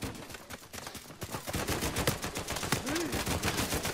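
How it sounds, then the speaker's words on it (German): Gunfire in Uncharted 4 multiplayer: rapid, close shots in repeated bursts, with machine-gun-like volleys and one descending whine partway through. "Ja, die schießen schon."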